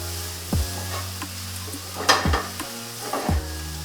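Fried rice with onion powder, cayenne pepper and soy sauce sizzles in a pan, a steady close frying hiss broken by a few clunks of a utensil stirring against the pan.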